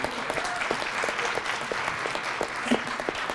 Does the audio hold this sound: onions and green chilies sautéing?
no